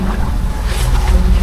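Sailboat engine running at about 1800 rpm during a night watch on an Atlantic passage, a steady low drone mixed with wind and water rush, close and continuous.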